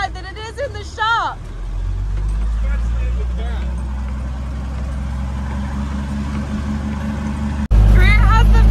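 Engine of a 6x6 off-road vehicle running outdoors after sitting ten years, a loud steady low rumble that holds throughout, then surges louder near the end; a brief voice is heard at the start.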